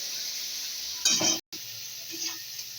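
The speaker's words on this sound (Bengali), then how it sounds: "এখানে চিংড়ি মাছগুলোকেও আমি দিয়ে দিলাম একবারে, তাহলে তেলের মধ্যে ভাজা হয়ে যাবে।" Prawns sizzle in hot oil in a pan while a Bengali cabbage and prawn dish is cooked, with a steady close frying hiss, a brief louder burst of stirring, then a short dropout before the sizzling resumes.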